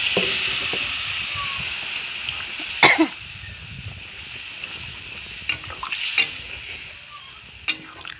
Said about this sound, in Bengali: তো আমি এখন জল দিয়ে দিচ্ছি